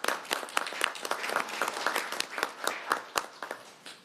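A council chamber audience claps in a round of applause, a dense patter of many hands at moderate volume that swells and then tapers off over a few seconds, with no voices.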